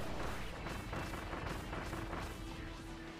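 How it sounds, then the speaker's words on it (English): Bombs being thrown and exploding repeatedly during a boss fight in Kirby and the Forgotten Land, a dense run of booming blasts and crashes one after another with a tonal game hum underneath, no speech. "I'm just going to keep throwing bombs everywhere"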